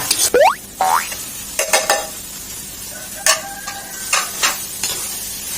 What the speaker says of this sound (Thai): ผัดเครื่องแกงให้หอมเลยครับ